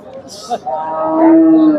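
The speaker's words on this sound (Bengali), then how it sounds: "ফ্রিজিয়ান জাতের গাভী" A Friesian dairy cow at a busy Bangladeshi cattle market lets out one long, loud, close moo that rises and holds, with crowd noise and talking around it.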